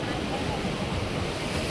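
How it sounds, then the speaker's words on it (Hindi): Ocean waves surging close by at a scenic waterside spot, a steady broadband wash of surf with wind rumble on the microphone, continuous and fairly loud for the whole stretch with no pauses. "यहाँ पे सबसे ज्यादा पानी का लहरें जो है ना, वो कान तक एकदम घुसेगा"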